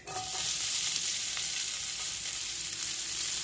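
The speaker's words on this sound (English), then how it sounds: "after we add the oil, we're going to add the fish cake" Fish cake sizzles steadily in oil in a pan over medium-high heat for Korean gimbap, giving a close, continuous crackling hiss without any talking.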